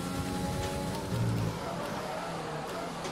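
Steady rain hisses across the whole stretch in F1 2020, during a wet Hungarian race, with the drone of a racing car's engine running underneath at an even, moderate level.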